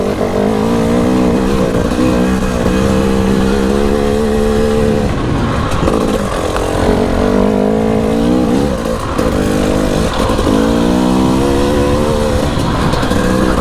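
A Husqvarna TE300i dirt bike engine drones steadily up close while being ridden, its pitch rising and falling with throttle changes and occasional sharper revs throughout.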